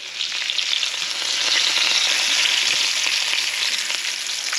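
Battered catfish fillet frying in hot oil, a steady, loud crackling sizzle that holds evenly throughout with no voices.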